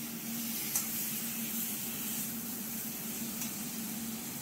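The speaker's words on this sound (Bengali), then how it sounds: "দেখুন কি সুন্দর মশলা দিয়ে ফ্রাই হয়ে গেছে।" Eggplant frying with spices in a pan gives a steady, soft sizzling hiss with faint stirring scrapes, close and even throughout with no voices.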